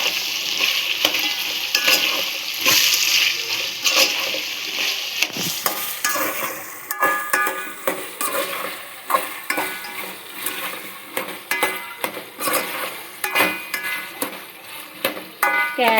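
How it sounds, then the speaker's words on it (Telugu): Vegetable biryani mixture with ginger paste and carrots fries in a pot, a loud, close sizzle broken by repeated rhythmic scraping and clanking of a spoon as it is stirred. "ఇదంతా మంచిగా మిక్స్ చేసుకుందాం."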